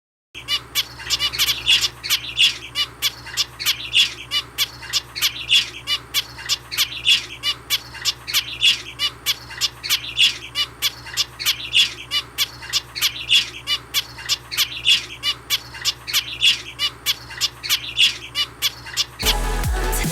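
Pet zebra finches give a steady run of rapid, nasal calls, repeated in a regular close-up rhythm for nearly the whole stretch, with no voices. The calls stop abruptly just before the end.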